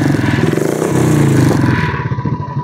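A used KTM motorcycle engine fitted with a silencer revs close by, a steady throaty drone with a clattering pulse that rises and then drops away to a choppy idle.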